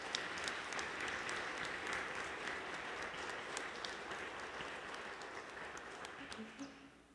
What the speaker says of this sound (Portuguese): Saudemos São José com uma bonita salva de palmas.